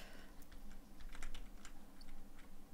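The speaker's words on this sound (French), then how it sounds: "excusez-moi aussi si vous avez les bruits de clavier" Computer keyboard typing during a Farming Simulator 2015 PC session, a steady run of quick, close clicking keystrokes with a few louder taps and no talk.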